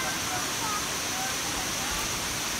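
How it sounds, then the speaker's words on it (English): Kuang Si waterfall near Luang Prabang roars as a steady, broad rush of falling water heard from close by at the top of the falls, a continuous wash with no breaks across the whole moment. "We made it to the top of the big waterfall."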